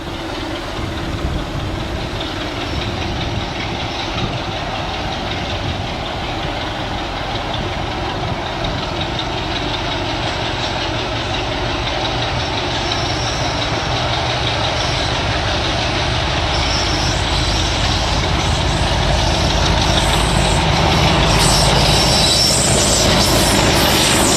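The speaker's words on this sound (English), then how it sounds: "Curvy chassis Crompton 116, making Leicester environmentally unattractive in September 2007" Crompton diesel locomotive 116 at Leicester, a continuous loud rumbling engine drone with heavy low throb, steady and close throughout, gradually building slightly in intensity.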